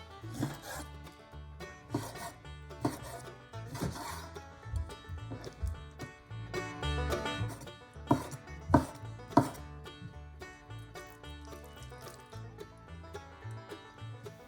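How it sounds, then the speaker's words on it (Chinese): A knife rhythmically dices 340 grams of chicken breast into small cubes for steamed chicken and egg, with sharp repeated chops on a board over steady background music. "340克鸡胸肉切成细丁"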